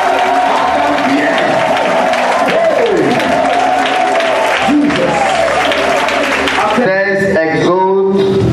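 A church congregation at a Sunday service in Abidjan claps and cheers together, making a loud, dense wall of sound under amplified preaching and music. The acclaim holds steady throughout.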